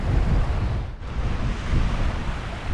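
Strong wind roars steadily across the microphone on a shingle beach, a dense continuous rush with gusting swells and one brief dip, no voices.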